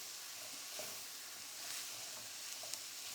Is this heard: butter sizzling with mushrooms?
yes